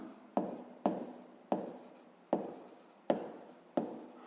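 A pen writes on paper during a sixth-grade math exercise, with six evenly spaced scratchy strokes, each starting sharply and trailing off, close and clear with no talking.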